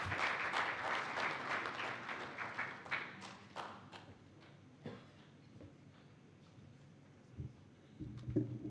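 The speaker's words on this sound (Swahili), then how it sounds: "Makofi kwake tafadhali." An audience at a formal press freedom day ceremony applauds a visiting ambassador, brisk clapping strong for about three seconds, then thinning into scattered individual claps and a few late thumps.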